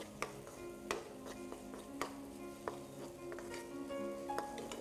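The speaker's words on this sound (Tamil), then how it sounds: "தனியாத்தூள், மஞ்சள் தூள், மிளகாய் தூள், உப்பு எல்லாம் சேர்த்து ஆட் பண்ணி வதக்கிக்கிட்டு இருக்கோம்" Onions and tomatoes sautéing in a pan with coriander powder, turmeric, chilli powder and salt, a faint steady sizzle punctuated by repeated metallic spatula taps and scrapes.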